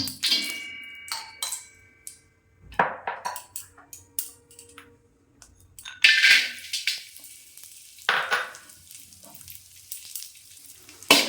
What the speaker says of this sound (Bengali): কড়াইয়ে আবার সামান্য ঘি দিয়ে কিশমিশগুলো ভেজে নেব।